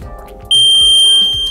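A robot hydration cup's safety feature sets off a loud, piercing electronic alarm buzzer that starts abruptly and holds a steady high tone, following a moment of quieter background sound.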